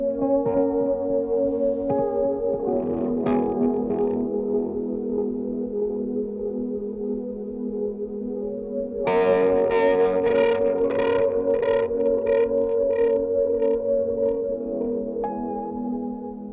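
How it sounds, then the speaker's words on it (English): Layered Roland Juno synthesizer parts play sustained chords with effects, joined midway by brighter, rhythmic plucked tones, loud and continuous with no voices. "I played some synth on this song. It was a Juno."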